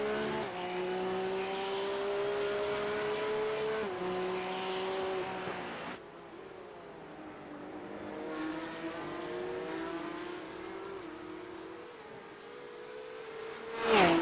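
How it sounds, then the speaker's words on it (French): Porsche Cup race cars in the Boostcup series run at a circuit, their engines droning steadily with shifting pitch and revs, a brief loud surge at the very end and no talk. "Driver Start Your Engine."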